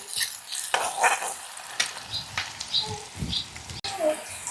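Onion frying in oil for a drumstick vegetable dish, with stirring scrapes and clinks of a spoon against the pan over a light sizzle, close and irregular in short bursts.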